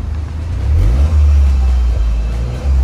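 A Toyota GR Yaris RZ's engine is revved while parked, a deep, loud rumble that swells and holds with a brief dip in the middle, close by and alone.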